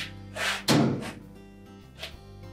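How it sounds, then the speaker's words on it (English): A GE clothes dryer door is swung shut with a single solid thunk, close and fairly loud, followed by a faint knock moments later. "we can close the door up"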